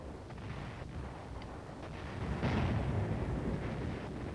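Enemy artillery firing in Korea, heard as distant, muffled booms and rumbling over a steady noisy background, with a somewhat stronger swell partway through.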